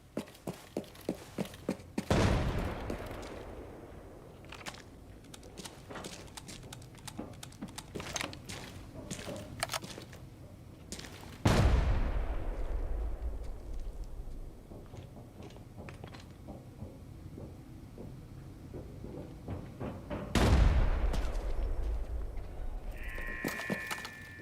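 Gunfire in the video game Arena Breakout: Infinite: three heavy booming shots about nine seconds apart, each with a long rumbling tail. A bed of quieter, rapid clicks and taps runs throughout.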